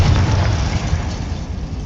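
A Confringo fire spell explodes in Hogwarts Legacy, a loud, dense rumbling blast with heavy low-end boom that sustains and slowly decays across the whole moment, with no voices over it.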